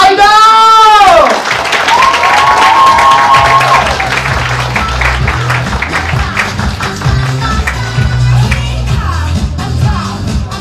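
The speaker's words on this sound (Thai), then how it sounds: "ขอเสียงปรบมือดังๆให้กับ G Idol" A Bangkok press conference audience claps and cheers for a K-pop group, with a loud shouted call at the start followed by sustained crowd applause and scattered voices.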